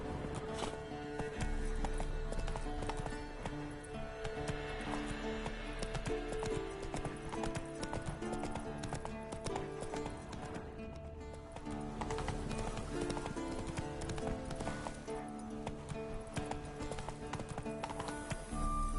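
Roach the horse gallops in The Witcher 3 on PS5, a steady rapid clip-clop of hooves running continuously over layered game music and ambience, with an occasional whinny.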